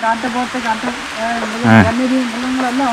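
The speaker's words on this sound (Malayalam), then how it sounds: "അപ്പോൾ അതാ അത്യാവശ്യം മഴയടിക്കുന്നുണ്ട്" Rain falls steadily through a dark forest beside a reservoir, a constant close hiss of drops running the whole way under a voice talking.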